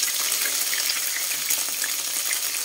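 Leftover dinuguan reheating in a pan, a dense, steady hiss and crackle of sizzling as a little water goes in, close and continuous with no talking.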